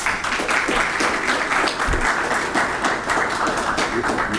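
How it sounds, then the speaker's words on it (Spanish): Audience applause from students at a university event in a national engineering university hall, dense steady clapping close by with a thump partway through. "Muy bien, un aplauso."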